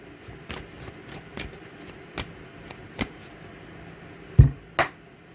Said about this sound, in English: Get a good shuffle here.